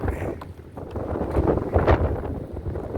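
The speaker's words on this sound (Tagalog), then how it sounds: "Hangin, lakas ng hangin lalo kanina." Strong gusting wind during a nighttime sandstorm laden with dust roars and buffets the microphone in a continuous rough rush that swells and dips, loud and close.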